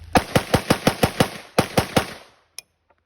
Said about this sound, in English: So let's try shooting it fast and seeing if this will work better.